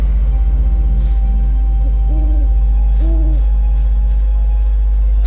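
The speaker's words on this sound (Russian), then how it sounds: "угукают, или это филины?" Owls hooting in the video game Gothic, two short wavering hoots a second apart over a steady low ambient drone, with no talk.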